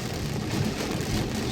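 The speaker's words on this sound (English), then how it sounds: "The rain is coming down pretty hard right now." Heavy rain pours down in a steady, dense hiss that fills the whole stretch without a break, loud and close, with no voices over it.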